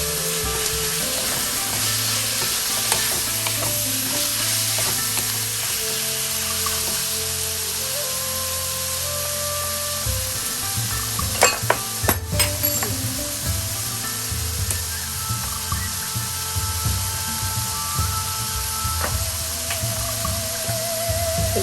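Pork and rice with salt are stirred in a wok, with a continuous loud sizzle, low rumbling hum and occasional sharp clinks of the spatula against metal.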